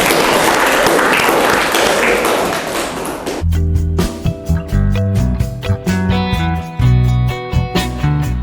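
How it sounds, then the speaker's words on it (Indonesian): Applause at a school event fills the first three seconds, then abruptly gives way to loud, rhythmic music with a pronounced beat and tonal notes. "tepuk tangan untuk kita"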